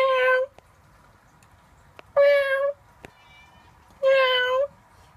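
A cat meows three times in separate, evenly spaced calls, each short, clear and fairly close, with quiet pauses between them.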